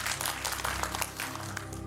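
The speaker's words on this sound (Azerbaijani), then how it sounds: "Alqışlar hələ tez səslənir" A studio audience on a TV quiz show applauds, a short, rather faint spell of clapping from many hands that flutters unevenly before settling.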